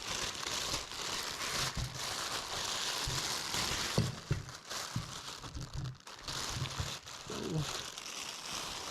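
Plastic packaging around a GM OEM oil cooler line part crinkles and crackles up close as it is unwrapped, with irregular bursts of rustling and a few sharper snaps throughout.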